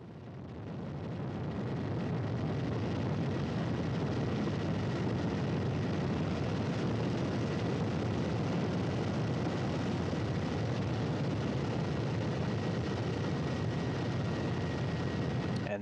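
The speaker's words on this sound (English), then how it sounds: "a recorded view from one of the Russian search and recovery helicopters" A Russian search and recovery helicopter in flight over Kazakhstan during a Soyuz capsule landing gives a steady, loud, unbroken engine and rotor roar that holds level throughout, with no talking.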